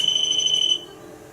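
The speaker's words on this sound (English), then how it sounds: "the alarm goes off." A shrill, steady electronic door alarm tone sounds loudly for under a second, then cuts off, leaving quiet room noise.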